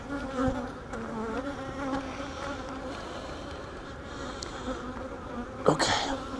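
Swarm of honeybees buzzing steadily around an open beehive during an inspection, a dense continuous drone close by with individual bees passing near, no speech.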